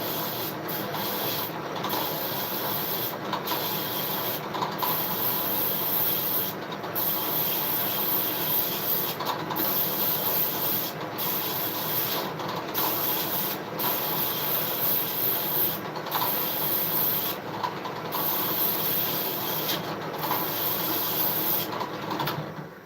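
Steady rasping of sandpaper rubbing on wood goes on for a long stretch, a dense hissing scrape with brief rhythmic breaks, close by.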